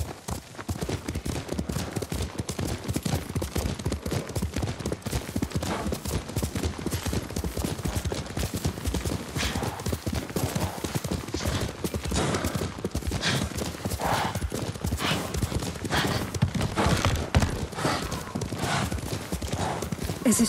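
Horses trotting under riders in the video game Ghost of Tsushima: a continuous, dense clip-clop of hooves, fairly loud and close, with occasional whinnies and background game sounds.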